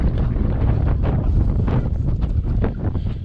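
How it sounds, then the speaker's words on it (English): Strong gusting wind on the Arizona Trail, heading toward Mica Mountain, buffeting the microphone in a loud, continuous low roar with surges and no speech. "You can see how windy it is, or hear how windy it is."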